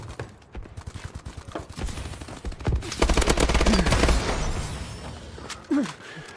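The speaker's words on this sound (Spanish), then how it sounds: "Pone la torreta aquí. ¿Esto dispara solo?" Automatic turret fire in the Call of Duty: Advanced Warfare video game, rapid bursts of gunshots that build into dense sustained fire, with sharp cracks and a heavier blast near the end.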